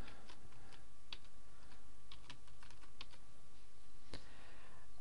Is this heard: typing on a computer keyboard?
yes